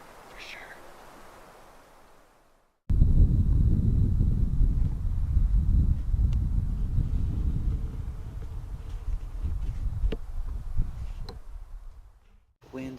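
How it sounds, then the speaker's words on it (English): Strong wind blowing across an exposed Utah cliffside hillside, a loud, continuous roaring buffet against the microphone after a quiet opening, with scattered clicks and rustles, fading out at the end. "The wind's blowing heavily this way."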